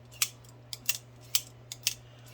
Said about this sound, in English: This thing just got a metal on metal, and I get it, it's a ball bearing.